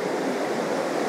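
The Birks of Aberfeldy waterfall in autumn gives a steady, dense rush of falling water that fills the whole moment, broad and continuous with no voices.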